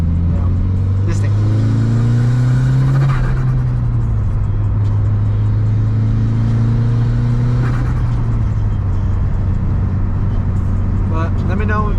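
A Mitsubishi Lancer Evolution IX MR drives with a loud, continuous engine drone whose pitch climbs through the gears, with gear shifts and a rumbling interior tone, no talking.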